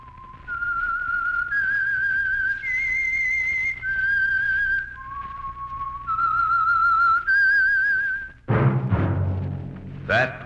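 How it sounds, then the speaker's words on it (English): A clear whistled tune of sustained, wavering notes rises and falls, then gives way to a sudden loud orchestral chord. "That whistle is your signal"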